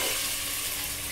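Fish pieces gently stirred in hot oil for a Telangana-style fish curry, a steady close sizzle and hiss for a brief moment with no talking.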